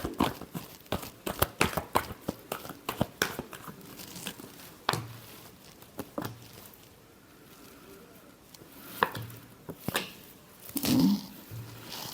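Tarot cards being shuffled, a run of quick crisp riffling snaps and flicks that thin into scattered taps, close and fairly quiet, with a short vocal sound near the end.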